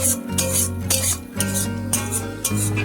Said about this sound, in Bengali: মশলাটা একটু নেড়ে চেড়ে কষিয়ে নেব।